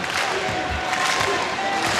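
An arena crowd at the Stan Sheriff Center cheers during a 2016 Hawaii versus UCLA men's volleyball match, a dense, loud roar of voices and clapping holding steady throughout.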